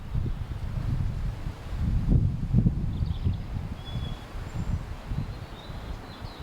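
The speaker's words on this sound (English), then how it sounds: "So it's a bit windy today" Wind blows across an outdoor allotment in January, a low rumbling buffet on the microphone that rises and falls steadily, with faint bird calls in the distance.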